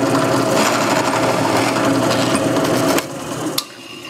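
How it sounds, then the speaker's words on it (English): Drill press with a Forstner bit cutting a shallow recess into a copper penny: a loud, steady grinding whine close up for three seconds, then it drops off with a brief sharp clack before fading quieter. "So I've got my drill press set up with the depth gauge and a Forstner bit."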